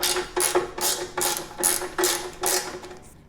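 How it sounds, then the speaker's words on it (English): A hand ratchet tightens the skid plate bolts on a Yamaha XT 1200 Super Tenere motorcycle, giving a series of about six quick, close clicking strokes in a steady back-and-forth rhythm. "go ahead and grab the T30 Torx socket or just a 10mm socket and a ratchet and tighten these bolts"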